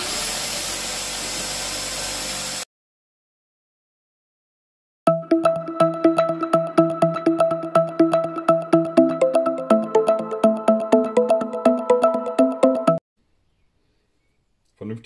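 A power drill runs in short rapid bursts on the brake of a Land Rover Freelander, a buzzing whir pulsing steadily for several seconds after a brief earlier noise and a pause, with no talk over it.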